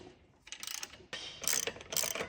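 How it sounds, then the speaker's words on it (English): A ratchet with a 17mm socket clicks in two or three quick bursts as it tightens a bolt on a Ridgid miter saw stand, close and fairly quiet with short pauses between strokes. "we've got another bolt with a 17mm socket that goes in like so"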